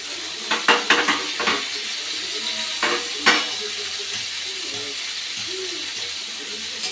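Chopped tomato goes into a pan of frying potato, eggplant and onion: a few sharp clinks of a utensil against the pan, then a steady low sizzle, close and moderately loud.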